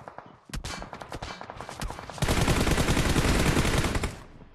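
Rapid automatic gunfire in PUBG Mobile, starting with scattered sharp shots that build into a loud, sustained burst of close-range fire lasting about two seconds before cutting off.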